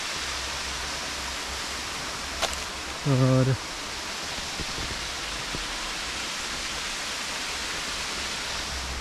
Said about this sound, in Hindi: ये पूरा वाटरफॉल ऊपर से आ रहा है